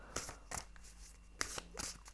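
A tarot deck gets a short reshuffle, heard as four quick papery riffles spaced about half a second to a second apart, close and moderately quiet.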